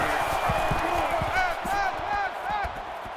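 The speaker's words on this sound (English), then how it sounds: "And this crowd is going absolutely crazy." A stadium crowd roars in an NCAA 14 college football video game, Penn State at Ohio State, a loud continuous wash of cheering with whistles and shouts, and a commentator's voice talking over it.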